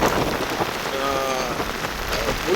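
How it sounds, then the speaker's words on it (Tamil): Heavy rain pouring down in Kilinochchi, Sri Lanka, under a fully overcast sky: a loud, continuous wash of drops drumming on surfaces, close and steady, with no voices over it. "ஃபுல்லாகவே மூடி மழை பெய்யுது."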